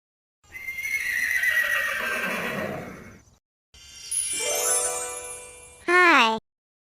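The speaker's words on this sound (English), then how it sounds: "Horse." Horse sounds for a children's farm-animal lesson: two long stretches of hooves and a jingling bridle, ending in a short, loud, close whinny.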